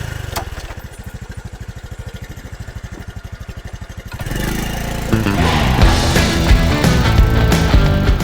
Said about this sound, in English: Maximus is a Postie bike. 110 cc's of unembarrassed power